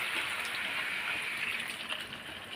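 Water poured into a pan of potato curry (aloo dum), a steady close gushing pour that runs for a couple of seconds and eases slightly toward the end, no voices.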